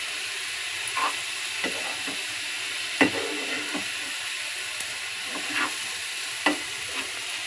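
Coconut sugar syrup for coconut laddoos cooks on a low flame, a soft continuous bubbling hiss broken by a few light spoon taps and scrapes as it is stirred, no talking.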